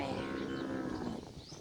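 A water buffalo at a rural Thai farmstead gives a long, low moo, fairly close and alone, fading after about a second.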